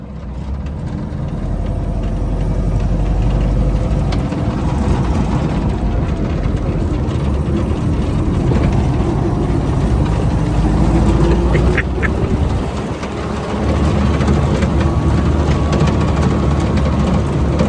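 A military M422 Mighty Mite utility vehicle engine runs steadily and loudly close by, a rough continuous rumble with a brief dip near the end.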